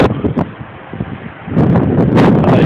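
Winter wind gusting outdoors, rough blustery rushing and buffeting against the microphone, growing louder and fuller in the second half.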